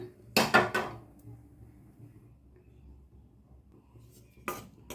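Millet flour stirred and dry-roasted in a metal kadai, heard as two short bursts of metallic scraping and clinking against the pan, one near the start and one near the end, with a quiet stretch between.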